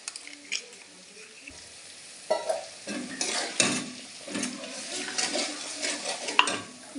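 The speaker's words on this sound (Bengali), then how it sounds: "এবার মশলাটা দেব। এখানে জিরে আর আদা বাটা," Cumin and ginger paste frying in a pan over softened tomato gives a sizzle punctuated by scraping stirs and light clinks of a utensil, moderately loud and close.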